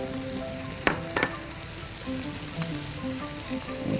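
Chicken with onions and ginger sizzling steadily in a hot pan, a continuous crackling fry broken by a few sharp clinks of a utensil stirring.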